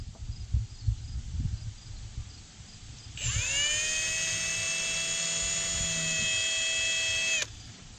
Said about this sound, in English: So let's start by drilling the hole.